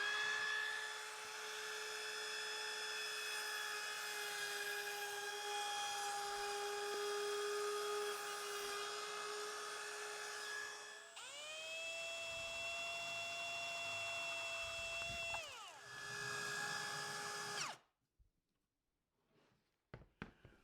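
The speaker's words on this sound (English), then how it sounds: "I'll go ahead and trim it flush again with the router, then drill a hole in the center and trim that out as well" A router trims wood veneer flush with a high, sustained whine, drops off, then a drill bores a hole in the center with a shifting pitch before cutting out, leaving brief clatter and quiet.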